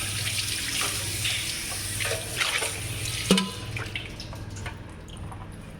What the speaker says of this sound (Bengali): ঢাকনা আমি নিয়ে আসি, তো একটু ধুয়ে আনি ঢাকনাটা